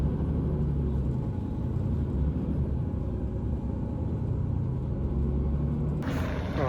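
A city bus rumbles steadily along a road, its low engine drone and road noise constant throughout, with a brief hiss or rattle near the end.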